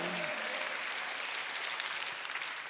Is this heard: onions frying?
no